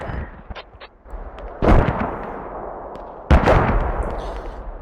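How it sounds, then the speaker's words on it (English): Mortar fire in a multiplayer combat video game, two heavy booming blasts with rumbling tails over background battle noise, loud and roughly two seconds apart. "They are sending mortar on the hub."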